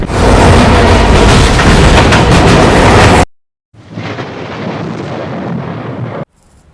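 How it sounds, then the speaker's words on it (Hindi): The New Delhi–Patna Special 03294 overtakes two trains at once, giving a loud, close, continuous rushing roar that cuts off abruptly, then a quieter steady rumble of the moving train. "गजब का ओवरटेक हो रहा है, एक साथ 2 ट्रेनों को ओवरटेक"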